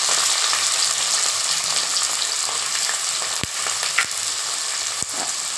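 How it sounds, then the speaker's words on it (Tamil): Sliced onions fry in groundnut oil with a loud, dense, continuous sizzle, broken by a few sharp clicks of stirring. "வெங்காயத்தெல்லாம் இதில் போட்டுக்கோங்க."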